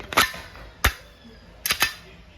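Umarex Glock 17 Gen 5 CO2 airgun with army green frame and black slide firing 4.5mm steel BBs: four sharp, close cracks, the last two in a quick pair, with no talk.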